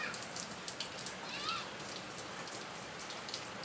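Steady heavy rain from Typhoon Kristine pouring down nearby, a dense hiss with scattered sharper drips and splashes tapping on surfaces.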